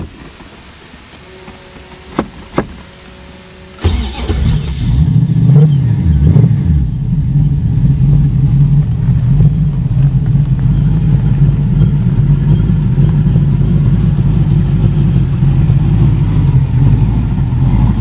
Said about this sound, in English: it does have a mild cam in it, so not the smoothest idling, but it does sound so sweet